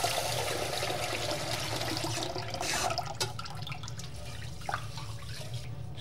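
Tap water runs steadily into a pot for rinsing rice, a continuous close rushing stream that softens slightly toward the end with a few clinks and splashes.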